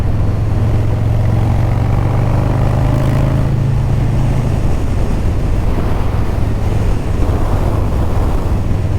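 A motorcycle rides along a road on an early morning run toward the beach, a steady low engine drone with heavy wind rush, the engine note shifting down partway through.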